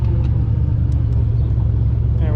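A car's engine rumbles low and steady while driving on a hot day, with a deep, loud drone throughout and light clicks from the cabin as the driver shifts gear.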